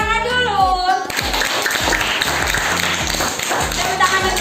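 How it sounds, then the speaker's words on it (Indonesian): In a primary school classroom, children clap together in a loud, rhythmic patterned applause. A brief voice comes first, then the clapping takes over and continues steadily to the end. "Tepuk tangan dulu."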